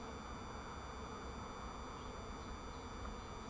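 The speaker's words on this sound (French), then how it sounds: "Tellement peu d'abeilles." Faint, steady buzzing of honeybees at a hive hums continuously at low volume, with no voices present.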